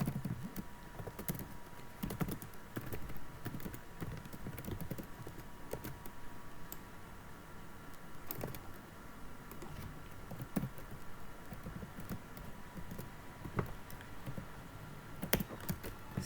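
Computer keyboard being typed on while writing exploit code, a soft, steady patter of keystrokes in quick irregular runs, faint and close throughout the whole stretch.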